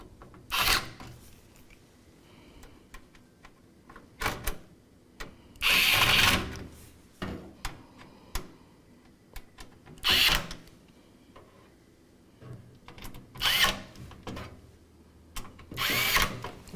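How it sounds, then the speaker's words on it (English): Screws being driven down during a computer build, heard as a series of short raspy whirring bursts of a small power driver, some longer and louder, separated by quiet pauses and faint handling clicks. "And we're going to tighten all these down now."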